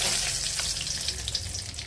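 Whole cloves, cardamom and cinnamon hit hot oil and sizzle, a dense, continuous crackling hiss that stays close and fairly quiet, with no talking.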